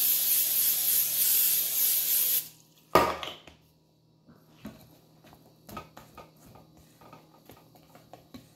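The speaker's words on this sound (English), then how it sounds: "I'm gonna go ahead and spray it with canola oil" Canola oil cooking spray hisses onto a pan for red velvet pancakes in a steady, close burst of about two and a half seconds, then a clunk and a few quiet kitchen taps follow.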